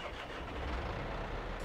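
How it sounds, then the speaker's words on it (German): A farm vehicle's engine starts up in Farming Simulator 22, a steady, loud, broadband rumble that holds for under two seconds with no talk over it. "Motor an."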